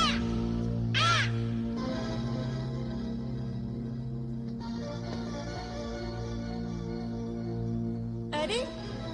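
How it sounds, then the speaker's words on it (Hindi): A bird squawks loudly twice, once near the start and again near the end, harsh and raspy, over a steady background hum in a drama scene where a parrot appears; short bursts of speech occur nearby. "अरे ये तोता कहाँ से आ गया?"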